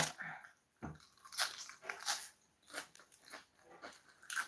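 A dog eats its food close by, with irregular crunching bites and chewing bursts separated by short quiet gaps.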